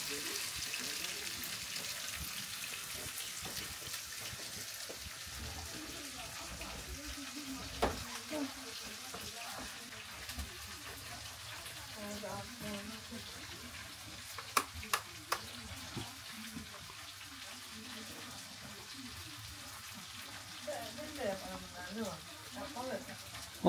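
Cauliflower frying in a pan at home for lunch, a low steady sizzle with occasional stirring clinks, while people talk quietly nearby.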